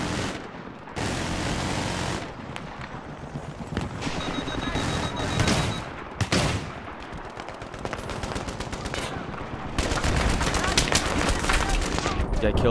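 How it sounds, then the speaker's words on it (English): Dense, loud Battlefield 3 gunfire in a large multiplayer match, with near-continuous automatic bursts and overlapping shots from several weapons and only brief lulls, while players talk over the shooting. "You're being shot at."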